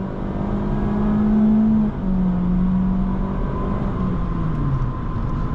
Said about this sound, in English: This is foot to the floor for the acceleration.